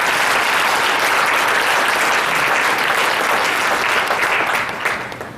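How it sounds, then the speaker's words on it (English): Sustained audience applause at a school winter celebration concert, a dense wash of clapping that stays steady and loud before tapering off at the end. "Please give him another round of applause."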